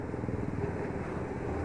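A loud, noisy truck passes on a road, heard from a moving motorcycle, a Yamaha Vixion, during a Sunday morning ride near Kediri; steady heavy engine rumble fills the whole moment with no letup.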